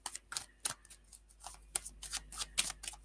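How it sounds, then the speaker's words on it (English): Tarot cards are shuffled by hand up close, with quick irregular riffling snaps and soft slides repeating in bursts, alone without talk. "I'm shuffling the cards"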